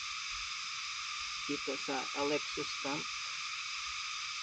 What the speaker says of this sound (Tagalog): Ririnig nyo yung mga kuliglig,